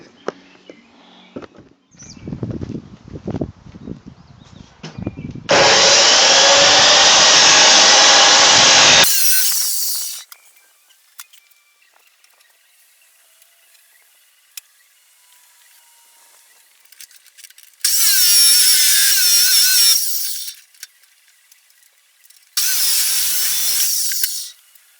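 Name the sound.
electric metal cutting saw cutting metal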